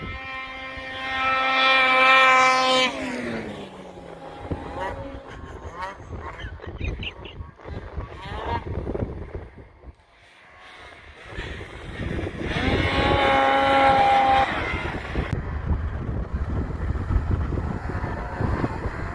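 A Ski-doo 850 Turbo snowmobile engine revving loud and close, its tonal whine rising and then falling, easing off to a low rumble before climbing again, with voices faintly underneath.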